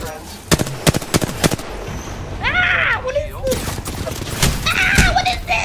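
Apex Legends gunfire cracks in sharp bursts, with rapid shots early, then more shots and whooshing game effects near the end, while a player talks over the action.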